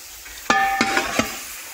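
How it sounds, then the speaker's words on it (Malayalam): Chunks of native buffalo beef drop into a hot pan for beef curry: three sharp clattering hits about a third of a second apart over a soft sizzling hiss, close and fairly loud. "ബീഫ് അതിനകത്തേക്ക് നമ്മൾ ഇട്ട് കൊടുക്കുകയാണ്"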